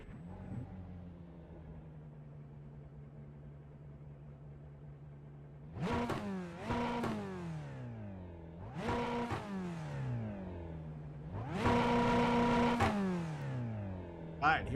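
Corvette C8R GTE race car engine in iRacing at Road America, idling low, then revving hard in repeated climbing bursts with gear shifts, loud and close, with faint talk at the start.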